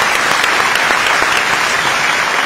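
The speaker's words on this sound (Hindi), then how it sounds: "बहुत जोरदार तालियां हमारी ऑडियंस के लिए भी" An audience at a lifetime achievement award ceremony applauds loudly and vigorously, a thick, continuous burst of close clapping from a large crowd.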